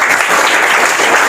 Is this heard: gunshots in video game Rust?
no